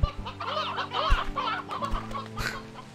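Chickens in the video game Slime Rancher 2 cluck repeatedly in quick, overlapping bursts, close and clear over a steady tonal game soundtrack, with no one talking.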